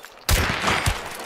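Gunfire in the video game Hunt: Showdown: a sudden loud shot cracks out near, followed by a second heavy report about half a second later, with rumbling echo trailing between and after.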